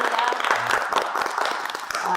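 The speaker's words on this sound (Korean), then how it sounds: "오늘 우리의 기도를 들으신 주님께 모든 감사의 영광을 박수로 올려드리겠습니다" Church congregation applause after prayer, a brief burst of scattered clapping with speech and voices mixed in.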